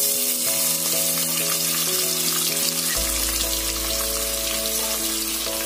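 Onions frying in hot oil on a gas stove for beef pepper fry give a loud, continuous sizzle that runs the whole time with crackling spatters. No voices are heard.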